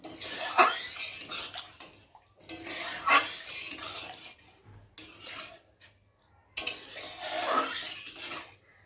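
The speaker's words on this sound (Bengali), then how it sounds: "একটু ভালো করে নেড়ে ছেড়ে দেব" A spoon scrapes and stirs potatoes and boiled eggs in curry in a metal pan, several separate bursts of close scraping and clinking with short quiet gaps between them.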